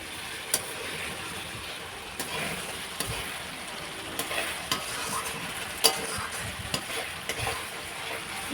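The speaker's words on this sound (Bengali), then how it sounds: "মশলাটা কষিয়ে নিচ্ছি। দেখো মশলা থেকে আমার তেলটাও ছেড়ে এসছে।" Masala spice paste frying in oil as it is stirred, a continuous close sizzle broken by repeated spatula scrapes and clinks against the pan, with no voices.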